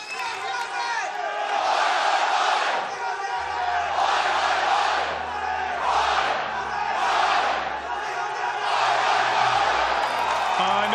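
Crowd at an Overwatch World Cup qualifier in Sydney roars, cheers and chants in rhythmic swells, loud and close, with repeated surges of shouting voices and low rumble underneath.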